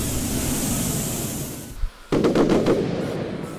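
Rapid crackling pops of fireworks going off in a video game, a dense burst of several close, loud bangs following a brief whoosh, heard on their own without talk.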